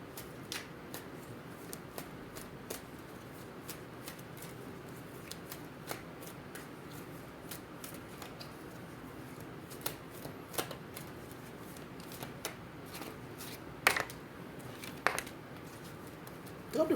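Tarot cards being shuffled by hand, a soft continuous riffling patter with scattered sharper card snaps, close and fairly quiet, with no talking.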